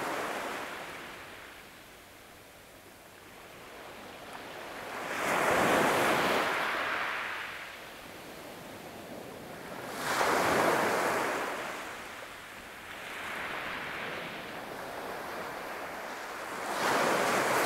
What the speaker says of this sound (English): Put your full attention on the gentle tones of the waves, allowing them to soothe your nervous system.